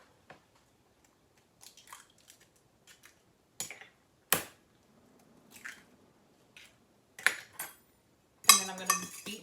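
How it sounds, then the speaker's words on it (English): Two eggs are beaten in a bowl, heard as sparse, close squelches and clinks in short separate bursts over near silence, ending in a busier, wetter flurry. "I'm going to beat them in the bowl"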